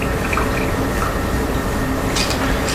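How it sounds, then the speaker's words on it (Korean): Tea is poured from a teapot into a cup during a tea meditation, making a steady, close, loud splashing flow of liquid that runs unbroken throughout. "이래 따르면 물소리가 들리죠."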